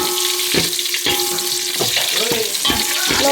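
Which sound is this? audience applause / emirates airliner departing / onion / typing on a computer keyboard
onion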